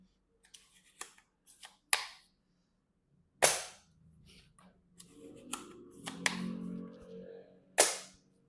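Sharp, isolated mechanical clacks and snaps from handling an airsoft sniper rifle, several distinct cocking clicks spaced across a quiet room, with a brief low rustle between them.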